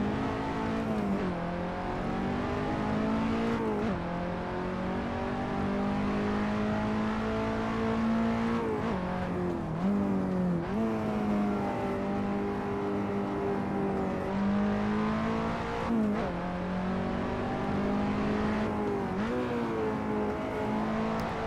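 KTM X-Bow race car engine in a sim racing video game at the Red Bull Ring, droning loud and steady while revving up through gears and dipping between shifts, with no talk.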